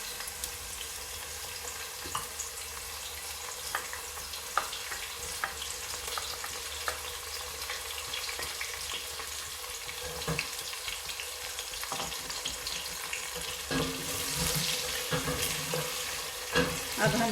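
Onions frying golden in hot oil with cumin seeds, a soft continuous sizzle with occasional stirring clicks, fairly faint and close.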